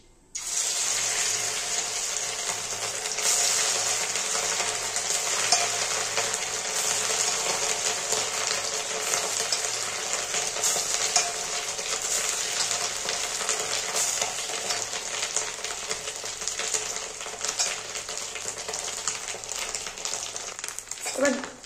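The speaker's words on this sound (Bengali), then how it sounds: "এবার আমি ডিমগুলো ভেজে নিচ্ছি।" Fish roe fries in hot oil for a dish with green banana and potato, giving a continuous close crackling sizzle that stays fairly even throughout, with no talking over it.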